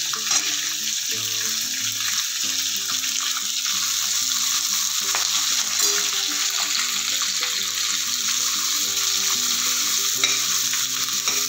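Onions fry in a pan for vermicelli upma with green chillies, giving a loud, constant sizzle with occasional spoon stirs and clinks, no one speaking.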